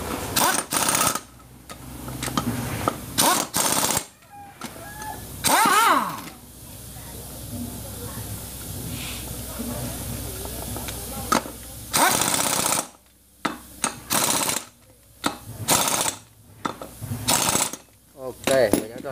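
An impact gun rattles in several short loud bursts while fastening the sprocket on a Honda Wave RSX motorbike, with someone talking between the bursts and quiet mechanical handling in the gaps.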